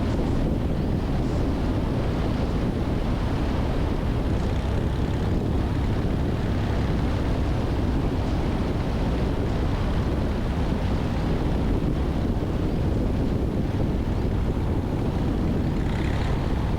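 A small airplane taxis in gusty crosswinds at a Virginia Piedmont airfield, its engine a steady close drone under heavy, continuous wind buffeting the microphone throughout.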